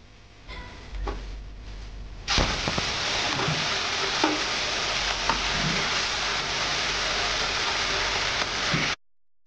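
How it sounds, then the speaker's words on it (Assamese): Small fish fry in a little oil in a wok with lemon juice squeezed over them, a loud steady sizzle and crackle that bursts in after a quieter start and holds evenly before stopping abruptly. "এতিয়া মই অলপ তেল দিছোঁ, মাছখিনি ভাজিলোঁ"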